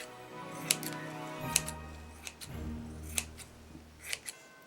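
Scissors cutting material for a bauble Christmas ornament, giving quiet, close snips and clicks in an irregular rhythm with a low hum underneath.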